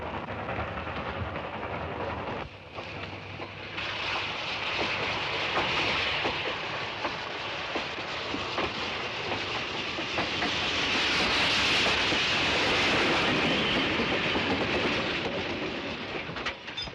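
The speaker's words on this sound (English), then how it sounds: "Engineer, stop the train!" A train in a 1955 Western runs steadily along the rails, a loud continuous rumble with hissing steam and rhythmic clatter swelling and easing over the whole stretch, with no voices.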